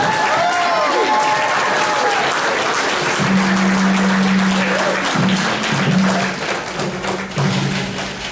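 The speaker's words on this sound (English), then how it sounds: "How about another nice round of applause for Dixie Castor?" Dense, loud applause from a banquet audience at an auto racing boosters hall of fame ceremony, sustained clapping that tapers slightly toward the end, with some talking and a tonal hum underneath.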